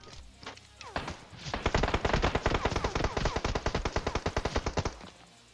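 A long automatic burst of rapid gunfire in the video game PUBG, steady and loud, firing for several seconds before cutting off.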